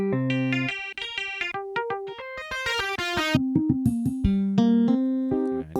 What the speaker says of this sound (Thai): นี่เสียงกีตาร์